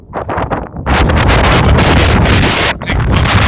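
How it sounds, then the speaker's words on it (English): Strong, brutally cold wind buffets the microphone at the highest spot of the Appalachian Trail in the Great Smoky Mountains, a loud continuous roar with gusting surges and no talking. "It's brutally cold and windy here."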